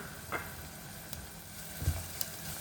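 Garlic and shallots frying in a pan for an Italian pizza tomato sauce, a faint, steady low sizzle with a few soft knocks and stirring scrapes.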